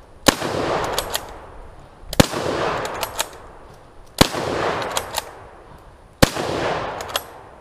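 A Turk Mauser bolt-action rifle fires four sharp, loud shots at roughly two-second intervals at a 15-yard range, each crack followed by a short decaying echo and smaller clicks of the bolt being worked.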